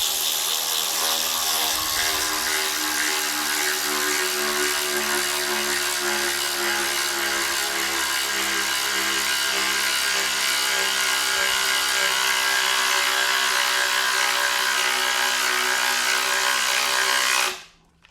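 A cordless ratchet drives a 4-inch TimberLOK screw into wood, a loud, continuous motor whir with a steady grinding drone for about seventeen seconds before stopping abruptly.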